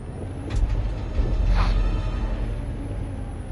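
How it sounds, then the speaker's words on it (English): A truck engine idling in the video game Detroit Become Human, a steady low rumble that runs throughout, with a brief hiss resembling an air brake release near the middle. "Cool, we get to drive a truck."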